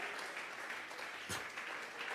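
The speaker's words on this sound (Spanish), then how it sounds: "vamos a regalarle ofrenda de palmas al Dios de la gloria" A church congregation claps together during a Tuesday Bible study service, steady dense applause that stays even and fills the room, with a brief louder knock partway through.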